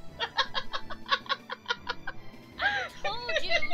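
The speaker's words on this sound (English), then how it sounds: "DK, I'm being attacked by chickens!" Rapid, repeated clucking bursts of attacking chickens in a video game sound close by, followed by squawking cries and a brief higher-pitched cackle.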